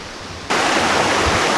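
Steady rushing water of Birch Creek in the Nevada desert, loud and close, a constant broadband wash that jumps up in level partway through and then holds.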